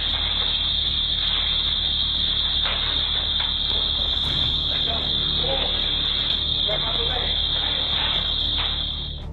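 A loud, continuous high-pitched store alarm rings without a break during a robbery, with voices and scattered clatter underneath it.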